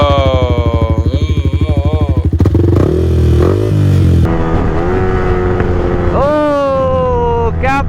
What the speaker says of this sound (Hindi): एंड एग्जॉस्ट का नोट जो है आपको सुनाते हैं।